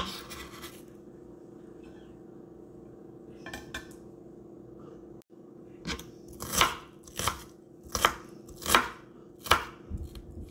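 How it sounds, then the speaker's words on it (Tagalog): An onion chopped with a knife on a board: a faint scrape or two, then a steady run of about seven crisp, evenly spaced chops, close up, with no talk. "maghiwa ako ng sibuyas"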